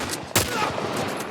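Gunfire from an enemy in The Last of Us Remake, played on Grounded difficulty: a single sharp, loud shot bursts out over steady game ambience.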